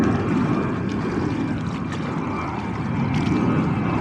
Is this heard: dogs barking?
no